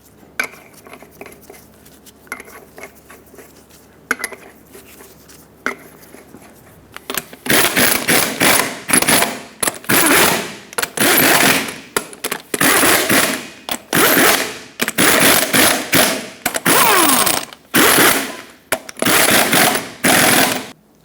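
Lug nuts being run down and tightened in a cross pattern on a 2000-2005 Ford Excursion front wheel, heard as loud, repeated rattling bursts after a quieter stretch of low clatter.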